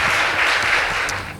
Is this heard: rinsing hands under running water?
no